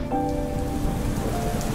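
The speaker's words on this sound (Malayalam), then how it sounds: "ഇനി നമുക്ക് കുറച്ച് നേരം മഴയുടെ സൗണ്ടെല്ലാം കേട്ട് മഴയുടെ ഭംഗിയെല്ലാം ആസ്വദിച്ച് നടന്നാലോ" Steady rain falling at Athirappilly waterfalls, a dense, continuous patter and hiss of drops on surfaces, close and even throughout with no voices.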